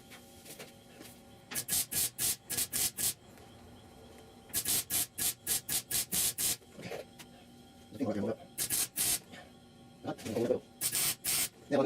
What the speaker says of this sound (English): all that was to weld this seam right down here